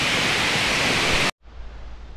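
Steady roar of a waterfall, the Cachoeira da Macumba in Petrópolis, a dense broadband rush heard close and loud, then cutting off abruptly into a quieter, more distant wash.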